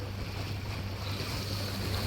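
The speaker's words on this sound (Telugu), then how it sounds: "వింటున్నారుగా వాటర్ సౌండ్, పైగా విండ్" Steady wind and lapping water on a pontoon boat ride across Lake Monona, with a constant low engine hum beneath the broad, even rush of air and surf.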